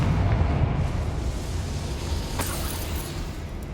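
A Confringo fire spell explodes in Hogwarts Legacy with a deep rumbling boom that rolls on continuously, plus a few sharp crackles near the end.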